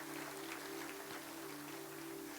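A church congregation claps in a steady, dense wash of applause, faint and distant, with a low hum underneath.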